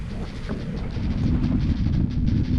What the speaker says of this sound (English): I measured the wind at a steady 23 miles an hour with bigger gusts past that